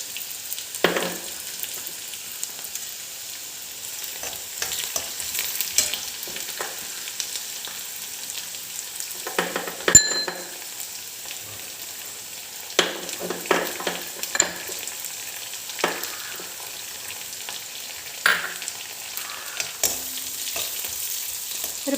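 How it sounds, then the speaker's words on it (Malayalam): Garlic frying in a pan for Kerala-style dal curry, a quiet, continuous sizzle punctuated by scattered spoon scrapes and clinks as it is stirred. "കുറച്ച് സെക്കൻഡുകൾ നമുക്കിങ്ങനെ ഇളക്കി എടുക്കണം."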